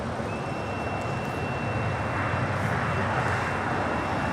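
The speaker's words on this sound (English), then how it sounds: "American Airlines Flight 2656 heading to Philadelphia, and an A321neo is our next departure here on the south side." An American Airlines Airbus A321neo departs from LAX, its engine roar a broad, steady rumble heard at a distance throughout with no clear rise or fall.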